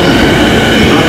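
A rapid train bound for Tsudanuma rolls into a station, a loud, dense roar of wheels and motors filling the whole moment, very close and continuous.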